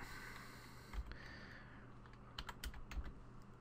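Soft, quiet keyboard clicks come from someone typing a folder name on a computer, mostly scattered, with a small cluster of keystrokes near the end. No one is speaking.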